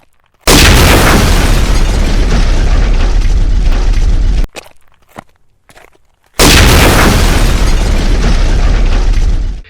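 A car blast effect for a film scene erupts as a huge, loud explosion with a sustained roaring rumble, dies into brief debris crackle, then a second equally massive blast bursts in and roars on.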